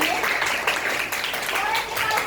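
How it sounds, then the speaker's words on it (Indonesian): Classroom applause for two boys during a lesson, a steady patter of clapping with voices mixed in throughout, fairly close and moderately loud. "Tepuk tangan dari 2 laki-laki yang hebat ini."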